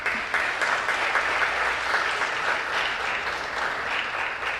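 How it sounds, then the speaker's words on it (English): Sustained applause from a crowd at a board of education awards ceremony, steady clapping filling the room throughout without letting up. "give everyone another one big round of applause and congratulations"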